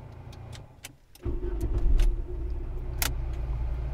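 A Volkswagen Golf III engine turns over after a brief pause and quickly settles into a steady, close, low idle, with a few faint clicks around it.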